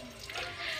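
Water running steadily from a household tap for washing up, a close, continuous splashing stream into a sink, with no talking.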